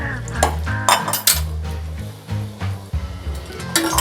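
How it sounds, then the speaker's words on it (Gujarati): Soaked rice being stirred with spices inside a pressure cooker for vagharela bhaat, metal spoon clinks and scrapes against the pot in short repeated strokes, close and fairly loud over faint background music. "અને ચોખાને પણ આપણે આ રીતે મસાલા સાથે મિક્સ કરી લઈશું."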